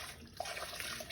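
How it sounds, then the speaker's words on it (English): Warm tea poured through a funnel during metheglin making, a soft continuous watery trickle at close range with a few brief splashy accents, fairly quiet and steady. "Now I'm going to pour this warmer tea in"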